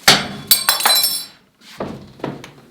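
A metal cutlery set of forks, spoons and knives clinks and chinks as it is unpacked, several sharp bright clatters followed by a short pause and two softer clinks.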